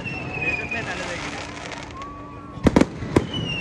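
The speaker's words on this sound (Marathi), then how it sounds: "फटाके बघून खुश व्हायला लागते." Diwali firecrackers going off outdoors at a gathering in New Zealand, three sharp close bangs in quick succession near the end over a background of whistling crackers and distant noise, with people talking.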